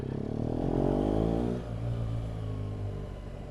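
A motorcycle on new Metzeler Roadtec 01 tyres rides by, its engine droning steadily with a slight rise in pitch, then settling into a lower hum, close and fairly loud.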